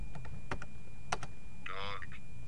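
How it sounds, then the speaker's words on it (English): A few separate clicks of computer keyboard typing, including a space bar press, sound near and crisp over a steady hum, followed by a short buzzy electronic chime. "When I press the space bar,"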